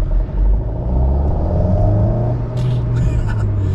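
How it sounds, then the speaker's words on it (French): A light, colorful car's engine revs loudly as it accelerates, a steady low rumble rising and holding close by for several seconds with no one speaking. "quand on a une voiture colorée en plus qui fait du bruit"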